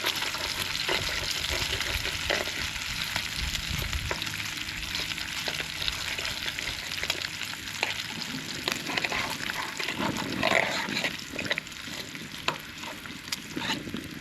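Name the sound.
bacon frying in a pan outdoors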